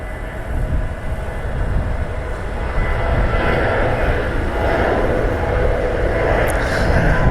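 A loud Boeing 737-700 jet airliner roars nearby, a broad rumbling engine noise that holds steady and swells slightly toward the end.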